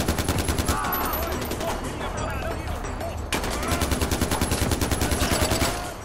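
Sustained automatic gunfire in the shooter game Far Cry 4, a loud, dense rapid rattle of machine-gun bursts with only a brief lull, close and dominant throughout.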